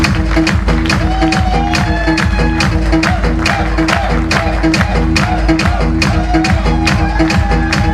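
An audience at a Delhi event applauding together, sustained dense clapping at an even pace over thumping music with a heavy beat, loud and continuous throughout.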